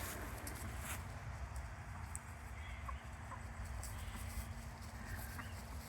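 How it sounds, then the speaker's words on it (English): Chickens cluck softly and intermittently over a steady low background hum, with occasional sharper calls from the flock. "Chickens."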